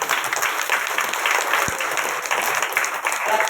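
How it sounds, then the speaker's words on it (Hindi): A church congregation claps together in sustained, dense applause, loud and continuous, with a brief low thump partway through and a faint voice mixed in. "जोरदार ताली बजाएंगे खुदा"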